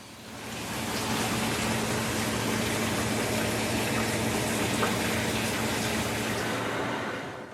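Steady gushing rush of water pouring into fry-tank bins, loud and continuous for several seconds, with a faint pump hum beneath and no voices.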